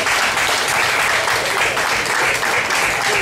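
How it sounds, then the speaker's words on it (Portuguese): Loud, continuous applause from a studio audience for a male contestant on a Brazilian comedy show, dense and unbroken throughout. "Aplausos, gente, pro rapaz, aplausos."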